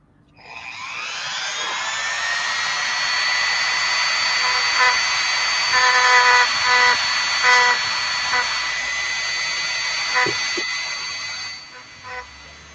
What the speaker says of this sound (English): Sanding down the molding lines on the injection mold lines.